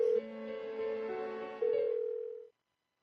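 A phone in the Persona 4 Golden video game rings out unanswered, giving a steady electronic tone that shifts pitch a few times before cutting off into silence.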